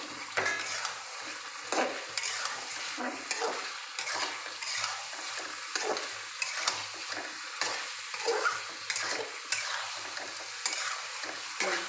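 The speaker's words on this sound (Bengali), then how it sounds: "কষিয়ে নিই" Mutton and potatoes being stirred and fried in a pan, a spatula scraping in a steady back-and-forth rhythm over a low sizzle, close but fairly quiet.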